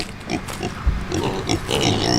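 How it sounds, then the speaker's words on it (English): Kunekune pigs grunting nearby in a shaded outdoor pen, a few low snorts and grunts scattered over steady background noise. "So these are our first two ever Coney Cooney pigs."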